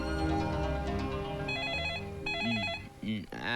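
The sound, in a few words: telephone ringing in a Hindi film scene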